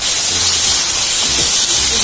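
Tomatoes dropped into hot oil for a karuvadu kuzhambu give a loud, close, steady hiss and sizzle that fills the whole moment without pause.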